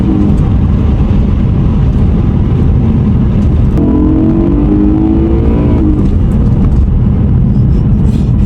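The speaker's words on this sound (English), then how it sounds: "I'm happy I'm driving a naturally aspirated V8." A naturally aspirated V8 car engine roaring loud and near under heavy throttle, a deep, rumbling drone with a rising tone in the middle as it accelerates, without any voices.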